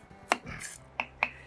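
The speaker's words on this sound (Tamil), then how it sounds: "ஒரு வெங்காயத்தை நான் வந்து பொடியாக நறுக்கிக்கிறேன்" A knife chops an onion finely on a board: a few sharp, separate strikes with short pauses between them, close and clear, with no voices.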